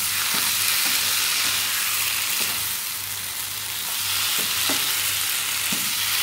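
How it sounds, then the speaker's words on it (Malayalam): Mutton liver fry with lemon juice being stirred in a hot pan, a steady loud sizzle with scattered scraping stir strokes and a low electrical hum underneath. "ഒരു പകുതി ചെറുനാരങ്ങ നീര്, നമുക്ക് ഇളക്കി കൊടുക്കാം."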